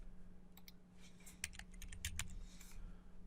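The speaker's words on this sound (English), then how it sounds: "So I'm just going to go down here and type in Notepad." Light, quick keystrokes tap on a computer keyboard in a short, uneven burst of a dozen or so clicks, faint and close against a low steady hum.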